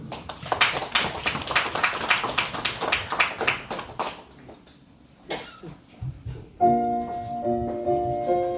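A church congregation claps in a brisk, rhythmic beat for about four seconds before the sound drops away. A few scattered knocks follow, then sustained organ-like musical tones enter.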